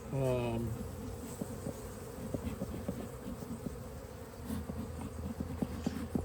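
Many honey bees buzzing around their hive in a dense, steady hum close by, with individual wings flitting in and out.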